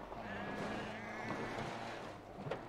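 Goats bleating in the video game Ghost Recon Breakpoint, a wavering animal cry over a steady windy outdoor ambience, fairly quiet and continuous with a faint thump near the end.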